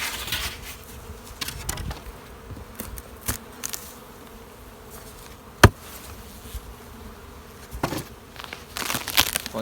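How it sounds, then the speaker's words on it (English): Honey bees buzzing around a double two-story, two-deep hive, a close, continuous hum with frequent sharp crackles and knocks, one loud snap near the middle, no voices. "Plenty of bees up top."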